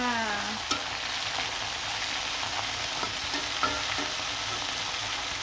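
Broiler chicken pieces fry in a pan with a continuous, even sizzle close by, broken by a few sharp clicks of a utensil against the pan.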